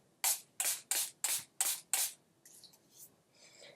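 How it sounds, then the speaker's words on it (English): Six quick, evenly spaced spritzes from a pump mist bottle, close up, followed by faint rustling and handling sounds. "I'm going to spray my face"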